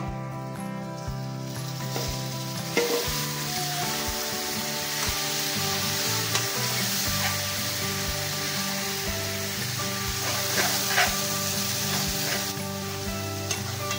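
Fish for a curry fries in hot oil with a loud continuous sizzle, a musical tone running underneath and occasional stirring clatters, close and without speech.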